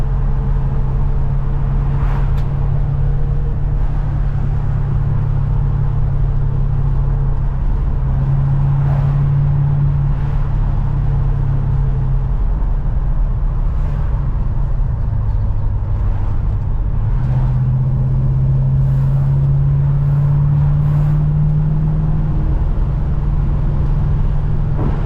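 A 1968 Dodge Charger engine drones steadily from inside the car on a test drive with reduced ignition timing, its loud, smooth hum rising and falling slightly through gear changes.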